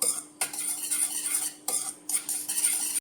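A spoon works a thick, ghee-rich mixture in a pan for a healthy snack made without oil or maida. Scraping, clinking strokes come in three close bursts separated by short pauses, with no talk.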